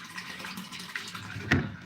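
Water pours into a storage tank, a faint, steady hiss and splash that ends with a brief louder knock.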